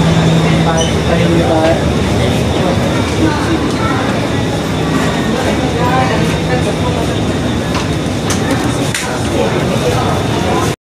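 Busy underground MRT station ambience at Orchard, Singapore: a constant rumbling roar of trains and crowd noise, with people talking indistinctly throughout.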